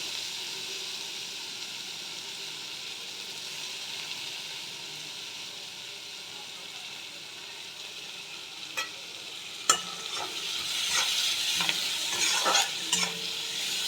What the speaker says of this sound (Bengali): পেঁয়াজগুলো আমি ভেজে নেব।